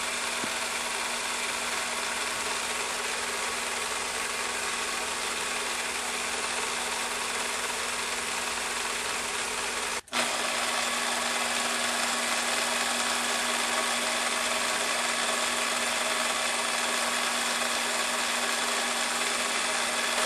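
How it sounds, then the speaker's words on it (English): A 14-foot-long, 5-foot-wide long arm quilting machine stitches a quilt, producing a steady, loud mechanical drone and whine with a constant tone, interrupted once by a brief dropout midway. "Here's Judy using her machine quilt. It's called a long arm."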